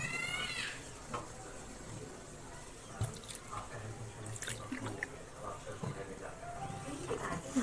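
Water poured into spiced potatoes cooking for aloo dum, a steady close splashing and dripping trickle with soft squishy stirring sounds throughout.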